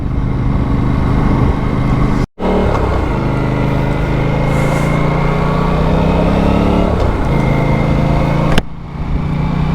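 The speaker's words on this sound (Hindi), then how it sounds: "स्मूथ है, KTM से तो बहुत ज़्यादा स्मूथ लग रही है, thanks to it's parallel twin engine, जो कि फॉलो करता है 270 डिग्री फायरिंग ऑर्डर को।" An Aprilia Tuono 457 parallel-twin motorcycle engine with a 270-degree firing order drones steadily while riding, with a continuous, close, loud hum broken by a short gap and slight pitch shifts, no talking.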